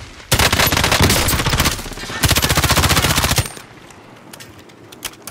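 Automatic gunfire in Call of Duty Warzone, two loud close bursts of rapid shots, the second longer, fading to quieter game sounds afterward.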